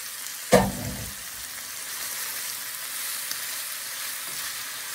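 Cabbage being stir-fried in a pan for a cabbage, mushroom and shrimp dish gives one sharp burst of sizzle as it hits the hot oil, then a steady frying hiss that stays close and even for the rest of the clip.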